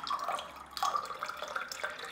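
Water trickles and drips into a pot while a citron drink is made from bitter orange juice, a light splashing stream that rises and falls with no talking.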